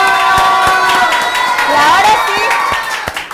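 Crowd cheering and clapping in a TV studio for an auto repair workshop association, loud and lively, with a presenter's voice shouting over it.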